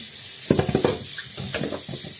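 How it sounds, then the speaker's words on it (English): Water running from a tap over hands being washed of oily hair tea at a sink, a close splashing, sputtering flow in uneven bursts that settles into a steadier stream. "I'm going to wash this off my hands."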